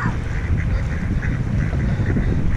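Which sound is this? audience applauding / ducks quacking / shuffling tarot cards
ducks quacking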